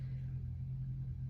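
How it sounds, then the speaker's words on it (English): A Corvette engine idles outside, a low, steady rumble heard from a distance behind the room, even and continuous with no revving or speech. "I don't know if you can hear the rumbling of Dave's Corvette engine in the background"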